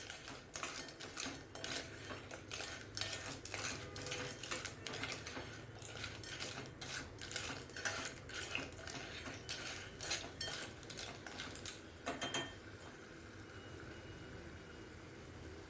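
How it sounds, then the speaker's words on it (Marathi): Clams sautéed and stirred in a Malvani-style masala give off quiet scraping and clinking of a spoon against the pan in an irregular rhythm, with soft background noise and no talking. "त्या मसाल्यांमध्ये या तिसऱ्या व्यवस्थित परतून घेऊयात."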